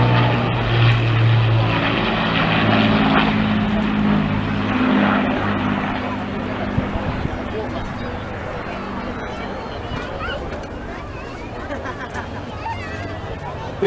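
Propeller-driven Lancaster bomber flying in formation with a Mark 16 Spitfire and a Hurricane at the 2014 Cleethorpes Airshow, a loud sustained piston-engine drone that slowly eases, with crowd chatter in the background.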